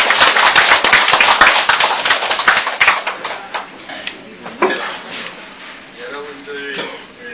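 Audience at a Pacific War victims' association general assembly clapping loudly, the dense applause thinning out over several seconds into scattered claps while voices murmur underneath.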